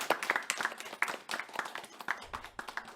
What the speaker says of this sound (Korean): 우리라도 좀 박수를 쳤으면 하는데 어떻습니까? 박수 한번 크게 치시죠.